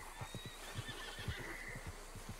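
Horse in Red Dead Redemption 2 whinnies and neighs with a wavering high call while hooves clip-clop rhythmically underneath, close and steady throughout.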